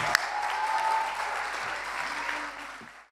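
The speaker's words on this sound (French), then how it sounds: "un tonnerre d'applaudissements" An audience applauds steadily after a debater is introduced at a debate event, a full, even wash of clapping that holds for about three seconds before tapering off at the end, with no voices over it.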